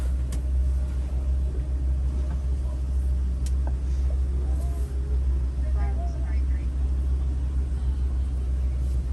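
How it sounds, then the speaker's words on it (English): Trucks sit idling and then roll along a road at Disney's Animal Kingdom, giving a steady low engine rumble close by, with a few faint higher sounds above it. "we're just going to wait on these trucks in front of us"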